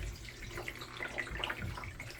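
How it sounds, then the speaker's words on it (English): Water pours into a refill jug for a Cerec Primemill milling unit, heard as a soft, steady splashing trickle close by. "The idea here is we're just adding water"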